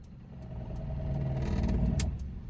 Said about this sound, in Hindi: धीरे से गाड़ी बढ़ाओ, झटका नहीं आना चाहिए